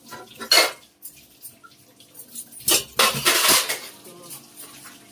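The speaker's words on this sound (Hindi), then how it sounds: "हो गए बर्तन साफ पूरी तरह, सब बर्तन साफ हो गए" Steel dishes, pots and utensils clatter and clink during household dishwashing, with two loud bursts of banging and scraping separated by quieter rattles, close up and without speech.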